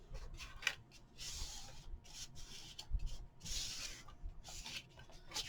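Paper being burnished onto a large craft folio, soft rubbing and scraping strokes in an irregular rhythm, quiet and close with short gaps between passes.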